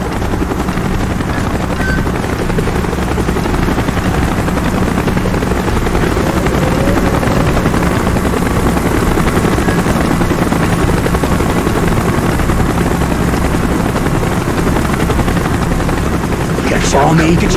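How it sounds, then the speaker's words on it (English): A helicopter in the Call of Duty Black Ops video game arrives with a loud, continuous rotor roar and whine that holds steady for the whole stretch, ending in a brief sharp burst. "Chopper's inbound! Move it!"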